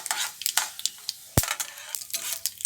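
Mustard seeds and urad dal crackle and spit in hot oil, with irregular bursts of sharp pops and one louder snap partway through.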